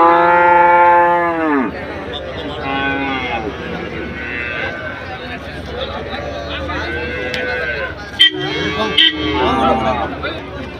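Cattle at the Saturday cow market in Anthiyur: a loud, close drawn-out moo opens, then further moos sound under steady crowd chatter and people talking nearby.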